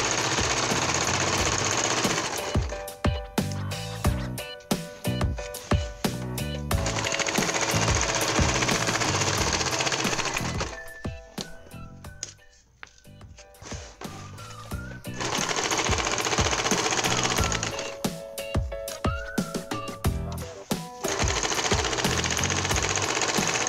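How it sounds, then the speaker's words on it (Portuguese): A sewing machine runs a seam on a cushion cover in long, loud, steady bursts of rapid mechanical clatter, pausing briefly in the middle for quieter handling noises before stitching resumes. "E agora nós vamos lá na máquina passar uma costura aqui."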